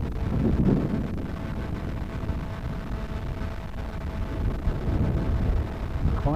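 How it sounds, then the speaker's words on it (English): Gusty wind buffets the microphone at an RC flying field while a twin-fuselage model plane flies, a low rumbling roar that rises and falls without clear pauses. "Quite windy."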